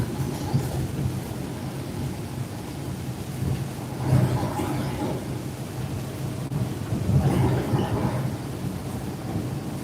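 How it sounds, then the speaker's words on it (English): Steady rain falls around a truck driving in a trucking simulator game, a dense, even wash of noise with low rumbling swells near the middle and end. "the rain's tapered off a bit. It's just a light rain right now."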